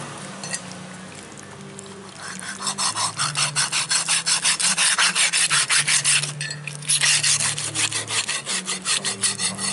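A knife saws repeatedly through stingray fish meat while it is cut up for a curry, making a close, loud, rhythmic rasping stroke that runs steadily after a short quiet start.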